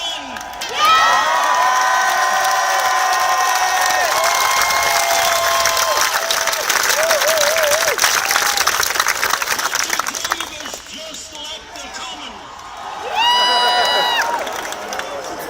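A big outdoor political rally crowd in London cheers, whoops and applauds loudly and continuously, with whistles and chanting voices in the mix, then dips briefly before another burst of cheering swells up.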